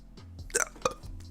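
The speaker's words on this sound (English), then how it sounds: "Hiccups." A sharp, brief hiccup from a girl streaming, with soft breathy voice sounds around it, close to the mic and fairly quiet.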